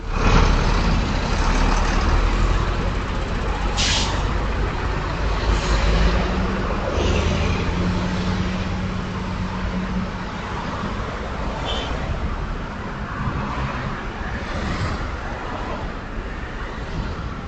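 A motorcycle with a loud aftermarket exhaust rumbles continuously nearby in street traffic, a steady coarse roar with a few passing bumps and faint voices in the background.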